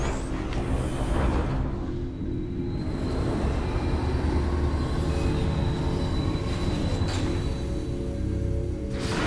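A small train rolls along in Metroid Prime 3, a steady continuous rumble with wheel squeal and rattling throughout, loud and unbroken.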